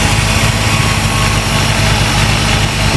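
A Holden VN SS ute engine idles on a newly fitted Holley carburettor, a loud, steady, close rumble with an even mechanical throb and no voices.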